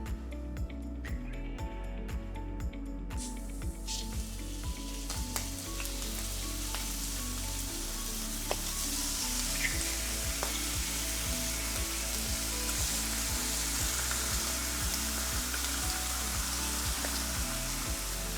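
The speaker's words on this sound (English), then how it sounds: "I'm just going to add a little bit of oil and then just add the bacon" Bacon frying in a little oil in a hot pan, a steady crackling sizzle running continuously for the whole stretch, fairly close, with no talking.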